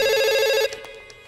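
A telephone rings with a bright electronic trill for about half a second, then a few fading clicks and faint echoes follow in a quiet room.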